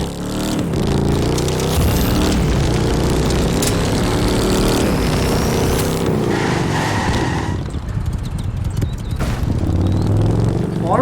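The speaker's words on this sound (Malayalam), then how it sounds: "അടിപൊളി സൗണ്ട് കേട്ടോ ഇതിന്റെ. എക്സോസ്റ്റ്." A car's exhaust roars loud and continuous in The Crew 2 racing game, with engine drone and shifting revs throughout and no pauses.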